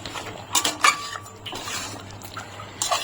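Butter and ground pepper being stirred into lemon chicken in a pan, giving a few clattering scrapes and clinks of a utensil against the metal, with soft wet sounds in between.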